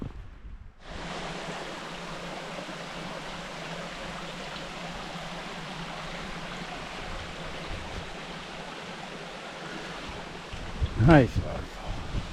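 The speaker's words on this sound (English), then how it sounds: "Nice waterfall." Waterfall beside a mountain hiking trail in the Mahoosuc range: a broad, steady rush of falling water fills the scene at close range, with brief wind buffeting on the microphone near the end.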